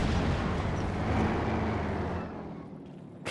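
A mine blast in Company of Heroes 2, a loud sustained rumbling boom that fades after a couple of seconds.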